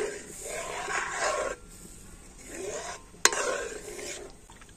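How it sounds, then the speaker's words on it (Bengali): A spoon stirs powdered milk into liquid milk in a pot, making soft repeated swishing and scraping strokes in two bursts. One sharp clink of metal on the pot rings out near the end. "লিকুইড দুধের সাথে গুঁড়ো দুধটা একটু ভালো করে আমি গুলে নেব।"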